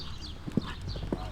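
Horse hooves during an outdoor show-jumping lesson at a riding school: a few soft, muffled hoof strikes spaced unevenly, fairly faint, over quiet background noise with no talk.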